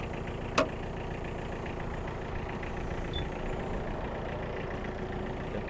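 A Mitsubishi MT-285 mini tractor engine idles steadily while warming up, a low, even running drone with one sharp click early on.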